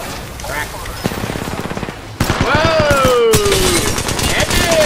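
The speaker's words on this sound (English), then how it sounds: "They're shooting at me? I am taking fire." Video game gunfire from hammerpoint rounds: bursts of rapid automatic shots, first in a quicker rattling run, then a louder close barrage with ringing whines, mixed with a player's voice.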